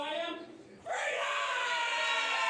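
A fight-event crowd roars for fighter Freedom Ramsey, a loud sustained cheer with yells that swells after a brief dip and holds steady to the end.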